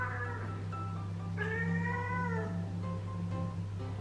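A house cat gives a few drawn-out, wavering meows, close by and fairly clear over a steady low indoor hum.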